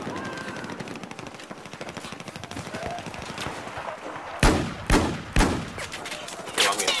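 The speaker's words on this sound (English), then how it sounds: "Well, I'm getting shot at." Gunfire in the Battlefield 4 video game: a steady rattle of distant automatic fire throughout, then several loud, close sharp shots in quick succession near the end.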